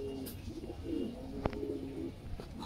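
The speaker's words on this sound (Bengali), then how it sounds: "সবগুলো কবুতর রেস্ট আছে" Pigeons of the red Lahori breed coo softly in a loft, low rolling calls recurring through the clip with a faint sharp knock partway, no voices present.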